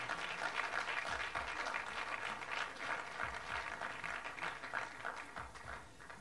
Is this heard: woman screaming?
no